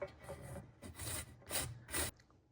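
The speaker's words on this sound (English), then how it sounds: "I'm gonna grate my zucchinis." Zucchini rubbed across a grater for a bibimbap side dish, giving four rasping strokes in a steady back-and-forth rhythm, close and moderately loud with brief pauses between them.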